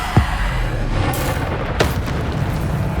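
Bombarda blast spells from the Hogwarts Legacy video game: two sharp booming explosions, one at the start and another partway through, over a dense, steady rumble of game noise.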